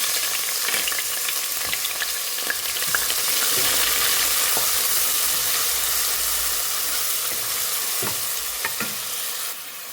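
Red onions frying in hot oil in a home kitchen, giving a continuous close, dense sizzle with scattered crackles and light stirring scrapes throughout.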